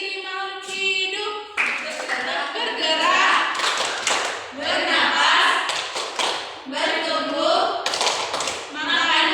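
Students in a low-grade science classroom play a clapping game about the traits of living things, clapping hands in quick rhythmic bursts while chanting together between the claps.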